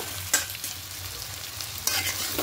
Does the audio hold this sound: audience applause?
no